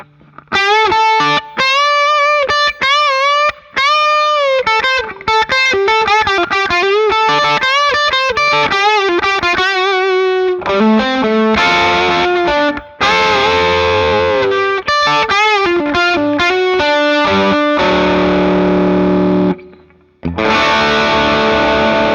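Electric guitar with distortion and chorus plays fast picked runs and chords using a Fender vintage triangular heavy tortoiseshell pick, with crisp pick attacks and a few brief pauses between phrases.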